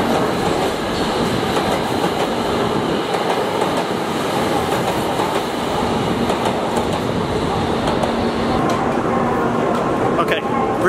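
A Shinkansen bullet train idles at a station platform with a steady rumble and hiss, platform ambience and distant voices throughout.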